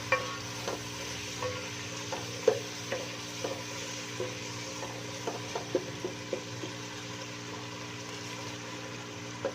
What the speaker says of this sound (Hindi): तो हमने टमाटर की थोड़ी सी भुनाई करनी है ताकि टमाटर अच्छी तरह से गल जाए।